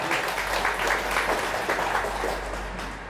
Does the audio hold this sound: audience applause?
yes